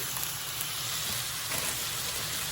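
Fresh spinach sizzling in a hot pan with spicy peppers, a steady close crackle and hiss that holds evenly throughout, with no talking.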